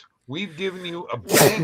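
A single sharp sneeze bursts out at the end, loud and close, right after a voice on a sports betting show.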